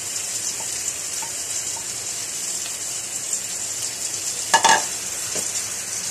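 Ground pork sautés in a pan, making a steady, close sizzle and frying hiss throughout, with a few light stirring clinks and one brief louder scrape near the end.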